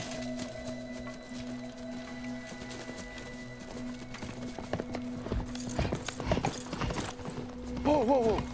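A horse's hooves clip-clop under spoken dialogue and a sustained musical score in a Robin Hood chase scene, the hoofbeats growing louder toward the end alongside a brief whinny-like sound.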